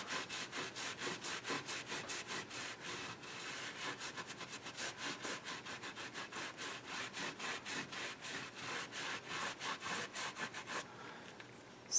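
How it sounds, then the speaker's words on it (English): Steady back-and-forth rubbing on a raised wooden picture frame with a white finish, gently wearing down the high parts; rhythmic rasping strokes, close and continuous, ending in a short pause. "so the idea is that you rub off the raised parts and leave the white in between"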